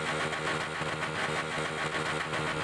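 A motorcycle engine in a Roblox Thai street-racing map drones loud and steady at high speed, a continuous close buzz with no talking.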